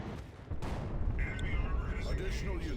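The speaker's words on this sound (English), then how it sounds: "I don't know where that Manticore strike just landed." Manticore artillery strike in the Warhammer 40,000 game Dawn of War II, a rolling rumble of blasts under a steady battle din, with a commentator talking over it.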